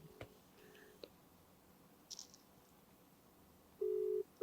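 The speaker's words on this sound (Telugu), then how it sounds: "రింగ్ అవుతుంది, చూద్దాం." A steady electronic ringback tone starts near the end, with the start of a second tone cut off, after quiet clicks and faint rustling.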